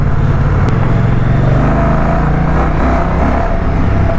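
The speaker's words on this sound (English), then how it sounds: "Bez obzira što je ovo mašina od 1000 kubika, ovako u niskim okretajima motor je jako miran" A 2024 Moto Guzzi Stelvio 1000cc motorcycle runs at low revs while riding, a loud, steady low rumble mixed with heavy wind buffeting and no speech.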